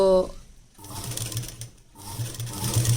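A sewing machine whirs in short bursts, slowing down after the stitch while sewing a lined blouse, with a voice speaking over it.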